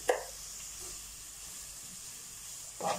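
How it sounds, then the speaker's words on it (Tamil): Onions sauté in a pan with a little salt, giving a soft, faint, continuous hiss with a couple of brief stirring scrapes at the start and end. "வெங்காயம் நல்லா வதங்கணும்"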